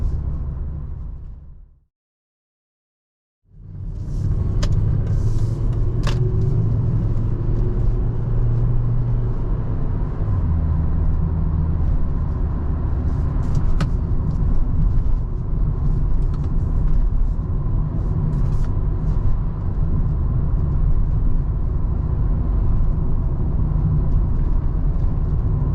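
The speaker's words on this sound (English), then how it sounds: "A little bit of manual mode driving." A Volvo V70 estate car drives along in manual gear mode, a steady low engine and road rumble heard from inside the cabin that continues loud and even after a brief silent gap near the start.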